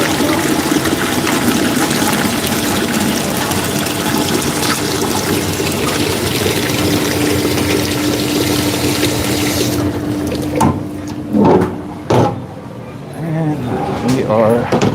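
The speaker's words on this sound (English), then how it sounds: "I'm gonna fill our pot." Tap water runs steadily into a pot in a work kitchen, a loud continuous rush that stops partway through, followed by a few clunks and a voice talking close by.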